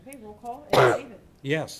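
At a village council meeting, someone sneezes once sharply in the middle of a roll call, between brief spoken responses from people in the room.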